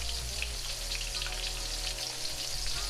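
Baby corn fries steadily in a wok, giving a continuous close crackling sizzle over a low, even hum, with no pauses or talk.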